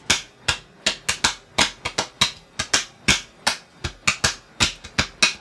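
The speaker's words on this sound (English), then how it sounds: "And I did some claps." Sharp hand claps in a Visayan pop track repeat in a quick, steady rhythm, loud and close, with crisp snapping attacks and no voices.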